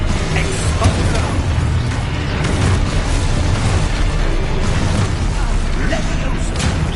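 Expulsor spell explosions in Hogwarts Legacy, loud dense booms and bursts layered continuously over busy game action and effects, with no quiet gaps.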